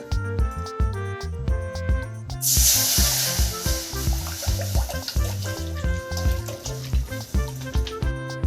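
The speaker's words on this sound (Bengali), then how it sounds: "এবার কড়াইয়ের মধ্যে একটু জল দিয়ে দেব" A sudden loud hiss bursts out partway through as water hits a hot wok after frying egg, then keeps seething steadily beneath ongoing background music.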